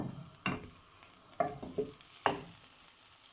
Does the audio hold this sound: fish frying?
yes